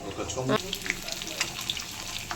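Paneer kabab frying in hot oil in a home kitchen, a steady close crackling sizzle with scattered pops, and a voice briefly at the start.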